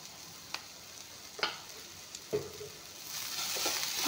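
Onion filling for paratha frying in a pan over a low flame: a soft, quiet sizzle that slowly builds, broken by a few sharp taps and scrapes of a stirring spoon.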